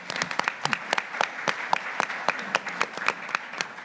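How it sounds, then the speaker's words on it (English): An audience at a business breakfast event applauds, a sparse crowd of distinct, sharp hand claps rattling along continuously and fairly close, with no voices over it. "Give her a round of applause."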